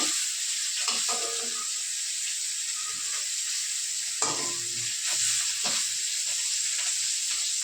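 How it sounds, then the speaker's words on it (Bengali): Fish frying in a pan hisses steadily, broken by a few sharp clinks and scrapes of a utensil as the pieces are turned and lifted out. "মাছটা ভাজা হয়ে এসছে, তুলবো।"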